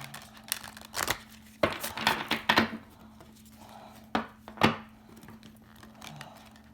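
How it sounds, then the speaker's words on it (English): Oracle cards, a Moonology Oracle deck, shuffled by hand in a series of soft papery riffles and crinkles. The bursts come in separate clusters with pauses between them, close and quiet, with no talking. "Let me shuffle the deck."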